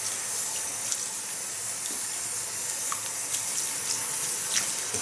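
Running tap water rinses hair at a salon after coloring, a steady close hiss of water with faint splashes and no voices.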